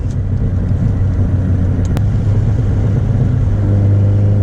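Low exhaust rumble from a turbocharged Honda Civic FK7 hatchback while driving, a steady loud drone that swells slightly toward the end.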